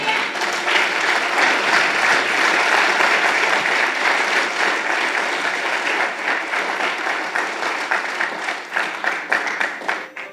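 Church congregation applauding, a dense sustained round of many hands clapping that holds loud for several seconds, then thins into scattered fading claps.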